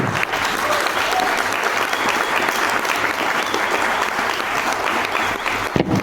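Loud, sustained applause from a crowd at a training session, even and unbroken for several seconds before cutting off sharply near the end.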